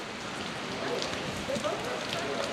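Rain falls around the Palace of Fine Arts dome in San Francisco, a steady close patter and hiss filling the short span, with faint voice-like traces mixed in.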